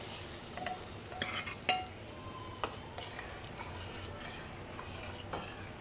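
Dal being stirred into a pot of sizzling sambar spiced with sambar masala, turmeric and red chilli, heard as a soft continuous simmer with several sharp spoon-on-pot clinks and scrapes, close by and without talk.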